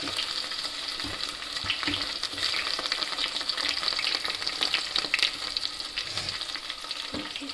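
Onions and green chillies fry in a pan with a steady, loud sizzle and occasional stirring scrapes throughout, close up and without any voices.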